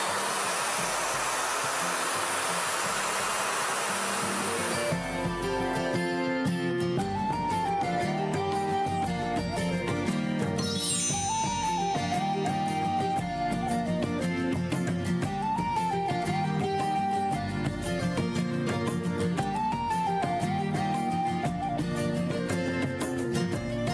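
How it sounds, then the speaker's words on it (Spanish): A hair dryer blows steadily to dry paint quickly, a loud continuous whoosh heard alone at first, then sitting under music for the rest of the stretch. "voy a ayudarme del secador para que seque rapidito"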